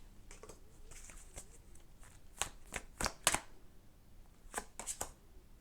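Tarot cards being shuffled by hand in a quiet room: several short, crisp riffling bursts come in uneven clusters, close and fairly soft.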